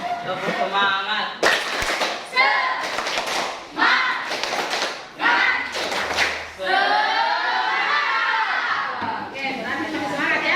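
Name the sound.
class doing a rhythmic spirit clap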